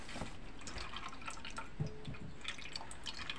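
Liquid is strained from a casserole pot: faint trickling and dripping with small splashes, quiet and close, without talk.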